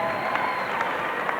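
A large crowd of Benton supporters cheers at a 1991 PIAA AA 140lb wrestling final in a gym, a steady, roomy roar of clapping and shouting that carries on under announcer commentary.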